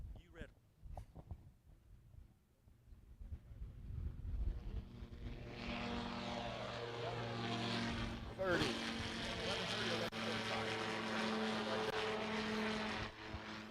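An Air Cam light aircraft takes off at the Sun 'n Fun fly-in, its propeller engine building into a loud, steady drone that fills the air, with voices talking nearby.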